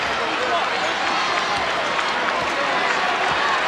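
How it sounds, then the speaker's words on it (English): Crowd noise in a basketball arena during a 1996 Heat vs Rockets NBA game, a steady roar of cheering and applause that fills the space, with a commentator's voice faintly mixed in. "The crowd trying to get into it"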